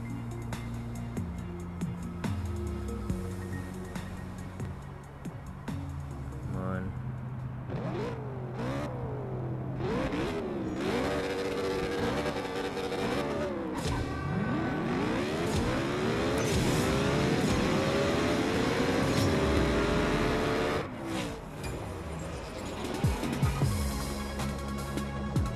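Race car engines in the CSR 2 racing game rev hard and climb through repeated gear shifts in long rising and falling whines, loud and continuous, with no talking.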